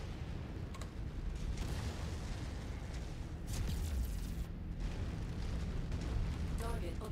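Explosion of a destroyed enemy vehicle in MechWarrior 5, a dense rumbling blast of broadband noise with heavy low-end roar, sustained and moderately loud over ongoing battle ambience.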